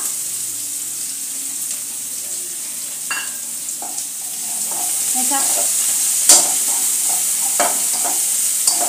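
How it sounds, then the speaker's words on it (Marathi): Finely chopped carrot and onion fry lightly in a pan over a low flame, a steady close sizzle with occasional stirring scrapes and clicks, no talking. "हलकेसे फ्राय करायचे आहे."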